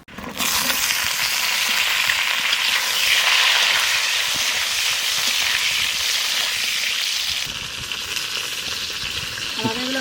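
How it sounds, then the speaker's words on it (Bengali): Ridge gourd and pointed gourd fry in hot oil in a pan, a loud close hiss that stays steady and eases slightly near the end. "মাছ তো ভাজা হয়ে গেছে এবার ঝিঙে আর পটলটা একটু ভেজে নেবো"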